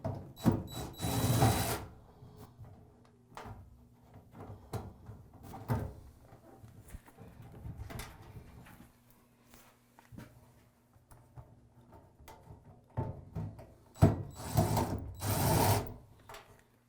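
A power screwdriver removes screws from the cover of a Navien NCB 240 water heater in short whirring bursts at the start and end, separated by quieter handling clicks and knocks close by.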